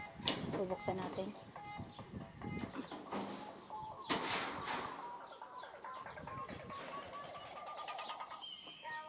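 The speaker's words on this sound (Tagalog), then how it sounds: "Ang kabilang mga ibon." Birds and chickens on a farm with many animals, scattered coos and clucks near and far through a quiet yard, with a sharp louder call partway through and a faint voice now and then.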